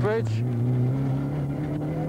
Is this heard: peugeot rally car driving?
yes